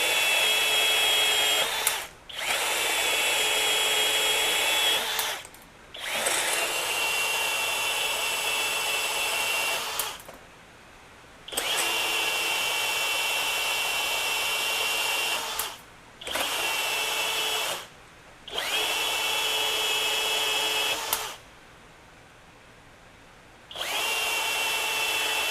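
A FLEX 24-volt brushless band saw cuts through 1/2 inch all thread, a loud steady whine running in long stretches that stop and restart several times, close and without talk.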